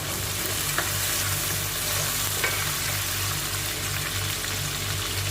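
Shrimp sizzling and frying in a cooking pan while being stirred for pinakbet, a steady, close, continuous hiss with a low bubbling rhythm underneath and no talking.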